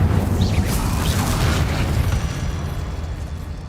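Incendio fire spell blast cast in Hogwarts Legacy, a sustained roaring burst of flame with a rumbling low-end whoosh that stays loud and dense before easing slightly toward the end.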